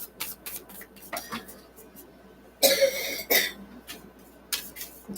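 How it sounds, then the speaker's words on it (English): A few sharp coughs and throat-clearing bursts, close by, with short pauses between them in a quiet room. "A lot of coughing lately."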